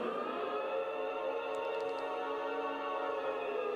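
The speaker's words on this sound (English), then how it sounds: "That's the siren." A sustained wailing siren from the game DanMemo, with layered tones holding steadily throughout, loud and unbroken, with a few faint chime-like blips in the middle.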